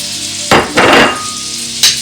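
Ground turkey hits a hot pan with a loud sizzle, then a second burst of frying and a clatter, a close, bright crackle with no voices.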